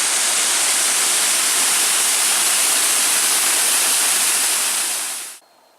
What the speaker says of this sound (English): There's a Split Rock waterfall.